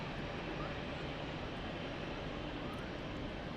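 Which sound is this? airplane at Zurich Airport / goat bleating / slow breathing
airplane at Zurich Airport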